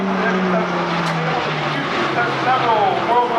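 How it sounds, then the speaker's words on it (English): An E-2C Hawkeye with Rolls-Royce T56A-427 turboprop engines and eight-bladed NP2000 propellers drones past at an airshow, with a loud, steady engine roar and a pitch that slides downward as the aircraft passes, under an announcer's voice. "he will demonstrate the power provided by the Rolls-Royce T56A 427 engines equipped with a new NP2000 8-bladed propeller"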